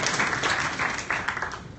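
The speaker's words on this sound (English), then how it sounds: "Everybody give them a round of applause." A short burst of audience applause and cheering at a virtual reality meetup, dense and fairly loud, filling the whole moment without a clear break.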